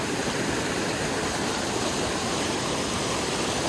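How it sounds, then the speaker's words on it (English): A waterfall pouring into stream shallows, a dense, steady rush of water close by, even and unbroken throughout. "I can walk through these shallows here and climb up this waterfall."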